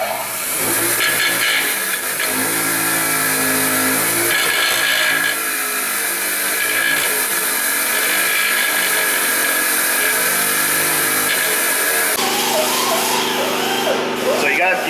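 A wire wheel scrubs rust from a Ford F250 4x4 front hub part, a steady bright grinding whine running loud and continuous throughout, with a brief shift near the end.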